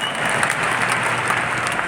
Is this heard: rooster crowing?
no